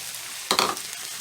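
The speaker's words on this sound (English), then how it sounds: "next we're going to add our long grain rice" Long grain rice stirred into a hot pan for Cajun dirty rice gives a brief, close scraping sizzle burst amid a faint steady background hiss, with no talk.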